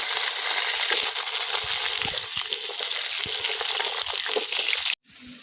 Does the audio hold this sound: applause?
no